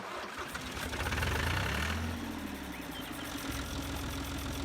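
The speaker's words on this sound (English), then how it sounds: "I love the way old tractors sound." An old tractor engine in Farming Simulator 22 cranks and starts, then settles into a steady, rumbling idle with a low throb that carries on to the end, loud and close, with no talking.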